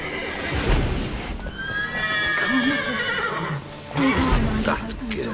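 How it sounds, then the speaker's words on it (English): Horses in The Witcher 3 video game whinny and neigh in several rising, wavering calls, fairly loud and close, with hoof clip-clops beneath and a player's voice talking over parts of it. "Gotta calm all the horses before they wake the guards."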